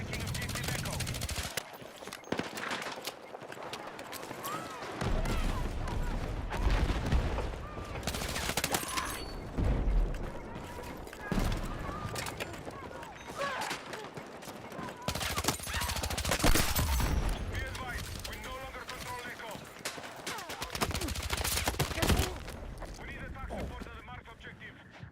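Full-auto gunfire in Battlefield 6 comes in repeated bursts of rapid shots throughout, separated by brief pauses, with a player talking across much of it.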